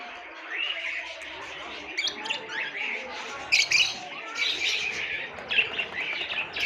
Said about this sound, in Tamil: அதுங்களோட சவுண்டு கேட்குறதுக்கே நமக்கு நல்லா இருக்குது.